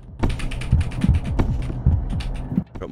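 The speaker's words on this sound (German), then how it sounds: "Hört mal meine Tastatur. Ich bin im Discord immer der Nervige, der eine mechanische Tastatur hat." Rapid clacking keystrokes on a mechanical keyboard, close and fairly loud, with irregular bursts of clicks and heavier thumps over a low hum.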